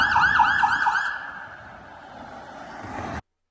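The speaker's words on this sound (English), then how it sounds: "speeding police car and stuff every once in a while" A police car siren wails through downtown Toronto, its rising and falling tone loud for about a second before fading into a steady city hum that cuts off abruptly.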